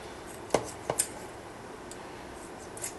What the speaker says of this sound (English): Just chopping this bitch up.